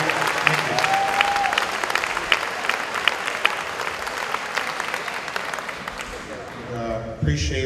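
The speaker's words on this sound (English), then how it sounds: "Let's give them a round of applause, okay?" Sustained audience applause for students at a school district opening day event, a dense steady wash of many hands clapping that fades slightly toward the end, with brief voices at the close.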